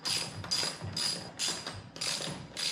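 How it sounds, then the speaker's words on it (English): Ratchet clicks rhythmically as a bolt is threaded back into a snowblower, coated with anti-seize and turning smoothly, in five or six close, bursts of ratcheting strokes with brief pauses between them. "It's amazing how much easier that bolt's going on"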